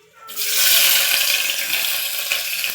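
Onions dropped into hot oil, bursting into a loud, steady hiss of frying that holds continuously after a sudden start.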